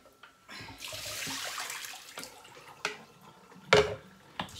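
Konjac rice is rinsed under running water, a moderately close gush and splash that swells and fades, broken by a few sharp knocks and clatters near the end.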